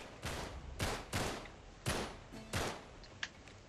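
Gunfire from cover in Uncharted 3: a series of about five sharp, fairly quiet shots spaced irregularly, each with a short ringing tail, plus a faint smaller pop near the end.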